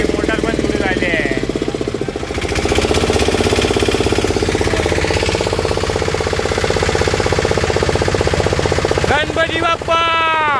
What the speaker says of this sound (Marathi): आमची मोटार पण सुरू झाली आहे.